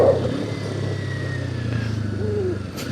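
A Kawasaki Ninja 250 ABS motorcycle engine runs close by with a steady mid-pitched drone that swells slightly, like a light rev, for a few seconds.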